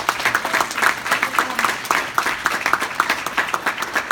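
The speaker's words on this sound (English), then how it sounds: "So give yourselves a round of applause." About 140 event volunteers at the Big Event at the University of Delaware give themselves a round of applause, lively clapping with distinct individual claps and some cheering, close and fairly loud throughout.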